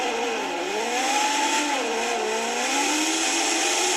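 A race car in the British Superlite Championship accelerates hard during a race, its engine note rising and falling through gear changes, loud and steady for the whole stretch with no talking.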